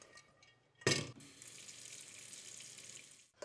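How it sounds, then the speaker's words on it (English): Water runs from a tap into a pan, a sudden gush at first and then a steady, fairly quiet stream poured in to steam eggs. Nobody speaks. "we can fill the bottom of the pan with a little bit of water and steam the eggs"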